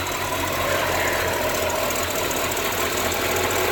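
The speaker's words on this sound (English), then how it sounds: "There's the engine running." A 1955 Hudson Rambler engine running at cruising speed, a steady mid-pitched hum with a knocking edge and road and wind rush, continuous and moderately loud.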